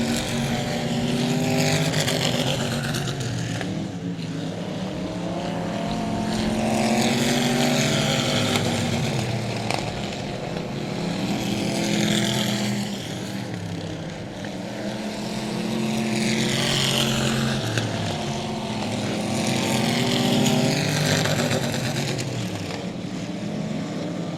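Race cars lapping an oval at South Texas Speedway, a continuous engine roar that swells and fades in repeated waves as the field passes, loud throughout with no talk.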